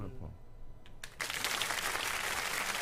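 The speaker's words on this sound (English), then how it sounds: "Give it up. A round of applause." Audience applause for a Westchester White Plains mayoral candidate breaks out a second in and swells into steady clapping, with a few quiet sounds before it.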